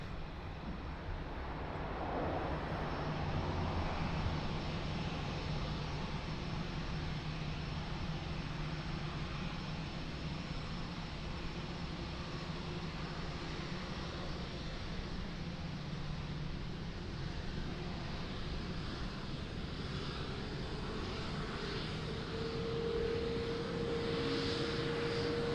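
A jet airliner at Lisbon Airport gives a steady, distant engine roar and broad rushing hiss that lasts throughout, with a slight rising whine near the end and no talking.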